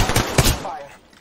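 Gunfire in the video game Apex Legends: a quick burst of several sharp shots packed into half a second, then a fading tail.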